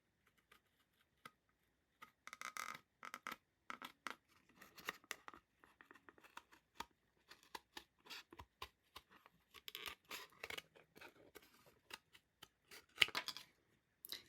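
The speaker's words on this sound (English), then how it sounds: "Makes cutting the mat board a lot easier." Titanium scissors cut through mat board in crisp, irregular snips, some quick bursts and some single crunchy cuts, close up and fairly quiet.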